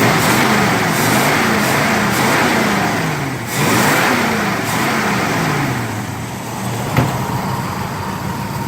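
A 1962 Studebaker Lark wagon's 259 Y-block V8 is revved up close by, the engine note rising and falling in several repeated surges over a steady loud idle.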